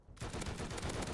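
Turret gunfire in the video game Rust, a sudden burst starting after a brief quiet moment and continuing as a dense, loud rapid stream of shots.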